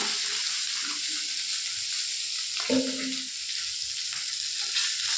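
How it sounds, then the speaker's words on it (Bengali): Fish frying in a pan for a home-cooked fish curry gives a steady, close sizzle throughout, with a brief clatter of stirring or handling partway through. "আর এখানে দেখো আমার মাছটা ভাজা হয়ে গেছে, প্রায় মাছটা ভাজা হয়ে গেছে"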